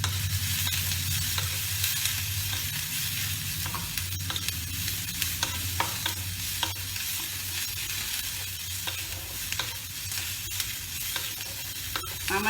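Sliced onions fry in hot oil in a pan while being stirred, giving a continuous soft sizzle broken by repeated sharp scrapes and clinks of a spatula against the pan, close up and with no one talking.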